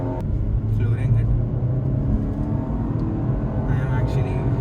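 A Volvo S60 under full-throttle acceleration gives a steady low engine rumble from inside the cabin, holding level for a few seconds with light road noise.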